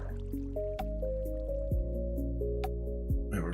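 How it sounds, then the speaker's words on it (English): A small waterfall in Minecraft gives off bubbly, dripping liquid tones, a run of plopping, pitched splashes over a steady watery hum. "You know, we got a little waterfall."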